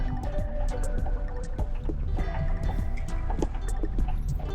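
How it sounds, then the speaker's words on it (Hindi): Meltwater flows beneath packed snow at Zojila pass, making a continuous close gurgling and dripping rush with irregular splashy spurts throughout, with no talk. "ऊपर बर्फ़ ही बर्फ़ जमी पड़ी है और नीचे से पानी जा रहा है"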